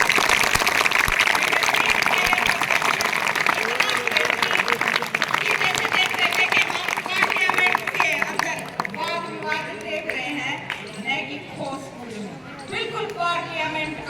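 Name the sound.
loud applause at a school debate competition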